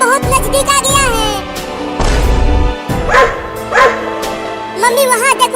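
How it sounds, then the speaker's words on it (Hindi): A dog barks and yips repeatedly while giving chase, loud and close, in bursts mixed with excited human voices speaking over it. "कुत्ता बहुत नजदीक आ गया है।"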